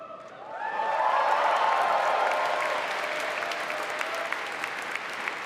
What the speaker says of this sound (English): I gotta let the claps go